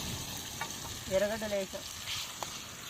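Onions frying in a pan during outdoor village cooking: a steady sizzle, with a short voice rising briefly over it midway.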